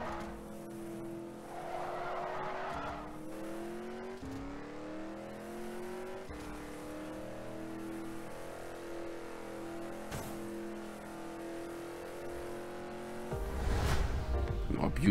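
The SCG 004S supercar engine in the Rebel Racing game revs high and steady, shifting up through gears with rising and falling pitch, then skids with a loud tire squeal near the end.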